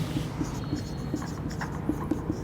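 Chalk or marker taps and scratches across a board in short, irregular strokes during a lesson on respiration, quiet under a faint room hum.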